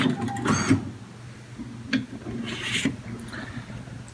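Printer feeding and printing a page of a social insurance booklet, with intermittent mechanical clicks, whirs and short bursts of carriage movement at moderate level, no voices.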